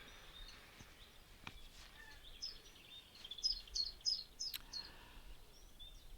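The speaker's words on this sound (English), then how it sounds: "And there's a chiff-chaff. I don't know if you can hear that." A chiffchaff sings a faint, distant series of repeated short chirping notes in an even rhythm, set against quiet outdoor ambience with a few soft clicks.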